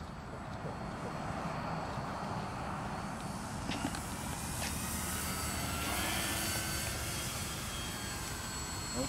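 A Dynam Sbach 342 RC aerobatic plane on a 4S setup flies over a baseball field, its electric motor giving a steady, distant drone that swells slightly, heard alone outdoors.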